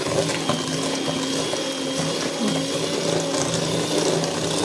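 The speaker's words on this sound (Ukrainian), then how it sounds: "Думаю, мій міксер справиться з тією сметаною, її таки роз... роздасть, розіб'є." An electric hand mixer whirs steadily as it beats sour cream and flour in a bowl, a close, continuous motor drone with the beaters rattling and clicking against the sides throughout.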